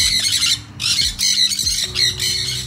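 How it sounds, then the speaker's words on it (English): Peacocks at a cafe grounds give loud, harsh squawks in several bursts, close and clear with little else around. "Got a random peacocks walking around the place."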